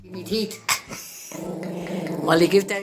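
A dog growls low and rumbling while gripping its owner's stolen dentures, starting in short bursts and then settling into a sustained close growl that rises in intensity toward the end.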